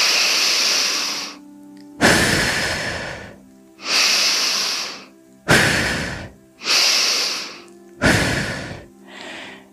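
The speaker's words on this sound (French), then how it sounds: "je veux d'abord effectuer 3 respirations toniques." Six deep, vigorous breaths alternate between long noisy inhales and forceful exhales, close and loud with short pauses between them, during a guided relaxation session.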